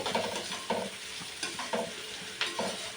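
Food frying in a pan while being stirred, a continuous close sizzle broken by several rhythmic scraping stirs, without talk.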